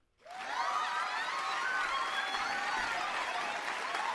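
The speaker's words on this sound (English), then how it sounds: "Oh, cheering." Applause and cheering swell quickly from near silence into a steady, dense wash of clapping that holds evenly for several seconds, fairly faint and distant.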